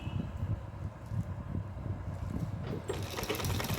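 A sewing machine stitches a small dress for a Laddu Gopal idol, its needle running in a quick, steady low mechanical patter close by, with a brighter whir joining near the end.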